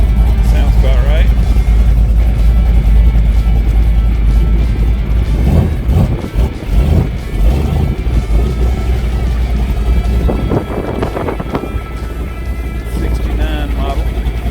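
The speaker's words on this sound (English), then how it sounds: "Torino GT. It says 351 on it. Sounds about right." A 1969 Ford Torino GT with a 351 engine runs at a car show, its steady low rumble loud and continuous throughout, with bursts of nearby crowd noise and voices over it.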